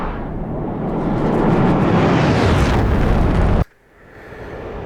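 Bombs dropped from a Mirage 2000C explode in the DCS combat flight game: a loud, continuous rumbling roar swells for about three and a half seconds, then cuts off abruptly into quieter background.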